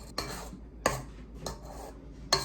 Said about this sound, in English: So now I'm going to scrape down the bowl.